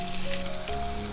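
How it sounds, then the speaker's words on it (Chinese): Spoonfuls of shrimp batter deep-fry in oil heated over a low flame, giving a steady, close, dense sizzle and crackle with no pauses and no talking. "油温3、4成热的时候放下来炸。"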